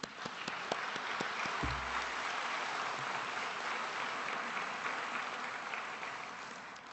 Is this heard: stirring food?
no